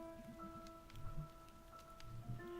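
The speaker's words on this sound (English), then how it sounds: "Listen to the sound design. Like the water actually feels like the rain is surrounding you" Rain in the video game Night in the Woods makes a quiet, enveloping hiss, with soft low rumbles and steady game tones sustained underneath.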